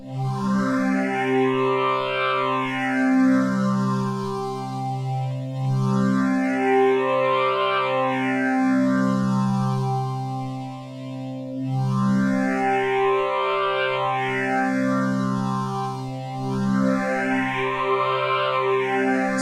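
Thick detuned synthesizer chords from an Arturia MiniFreak using super unison, with a shimmering chorused texture, swelling and sweeping in repeating cycles, played alone with no voices.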